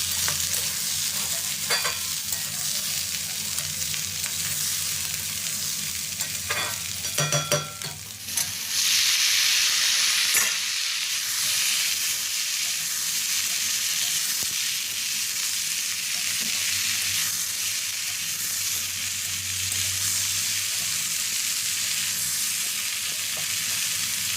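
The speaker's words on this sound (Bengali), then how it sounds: "আলু পেঁয়াজ মটরশুঁটি কষিয়ে একবারে মশলা দিয়ে রান্না করে নেবো" Potatoes, onions and peas sizzle as they are stirred in a frying pan, with a steady close fry and occasional clatter of a spoon against the pan, and no voices.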